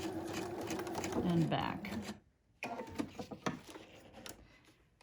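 Sewing machine stitching along a fold about half an inch in, seaming a comfort-fit piece, its steady mechanical run up close under a voice, then a pause before a second burst of stitching.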